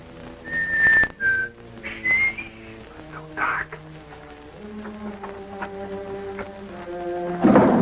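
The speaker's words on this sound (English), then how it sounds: "Why we whistling?" Someone whistles a nervous, wavering tune while walking in the dark, with clear separate notes and pauses and a few short sounds around them.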